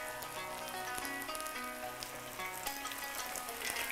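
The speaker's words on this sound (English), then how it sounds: "it takes only 1 minute to fry the kibbie on each side" Burghul kibbe frying in hot oil held around 350 degrees gives a steady, close crackling sizzle with dense popping that runs the whole time, alone without talk.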